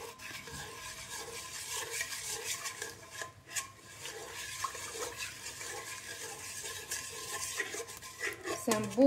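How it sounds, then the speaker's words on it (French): Semi-wholemeal bread dough is stirred in a bowl, making soft, uneven rubbing and scraping strokes with occasional knocks against the container, fairly quiet and close. "On remue."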